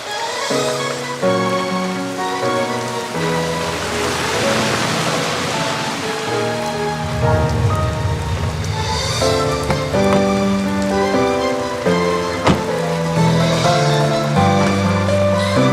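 Heavy rain pours in a steady wash of noise beneath a loud, sustained musical score that largely dominates the sound.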